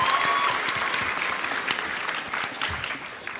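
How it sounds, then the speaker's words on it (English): Audience applause at a San Diego Comic-Con 2013 panel for Assassin's Creed IV: Black Flag, a loud, dense crowd clapping steadily and filling the room, then tapering slightly toward the end. "let's get a little round of applause for Edward Kenway"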